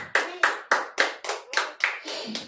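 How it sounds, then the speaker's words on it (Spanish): A church congregation claps in unison at a service, about nine sharp, evenly spaced beats in quick rhythm, loud and close, with no talking over it. "Den un aplauso al Eterno."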